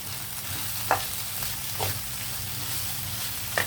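Broad beans and potato curry sizzling in a pan, a constant close frying hiss broken by a few brief scraping stirs of a spoon, with no speech.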